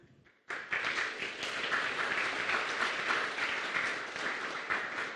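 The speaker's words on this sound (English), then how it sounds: "So huge applause to them as well." A hackathon opening ceremony audience breaks into loud, sustained applause that starts abruptly after a brief quiet moment and holds steady throughout.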